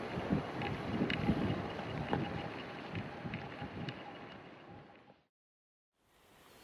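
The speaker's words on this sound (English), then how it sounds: "the wind is insane" Strong wind buffets the microphone on Cross Fell along the Pennine Way, a loud, constant roaring rumble that cuts out abruptly near the end, then returns faintly.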